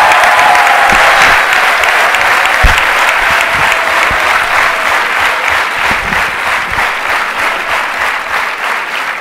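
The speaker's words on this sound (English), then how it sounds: "Can we have a huge round of applause?" An audience at a corporate speaker event in India breaks into sustained, loud applause that keeps a steady density of clapping throughout without fading, with no talk over it.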